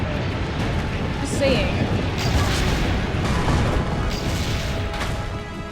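Cannon fire against a siege tower in Assassin's Creed Brotherhood, a steady rumble of booms and impacts under a brief spoken remark.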